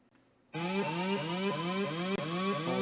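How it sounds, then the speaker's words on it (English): A siren in an Alexa scavenger hunt game starts abruptly after a quiet moment, then wails loud and steady in repeating rising sweeps, with a brief dropout near the end. "we're back to the siren"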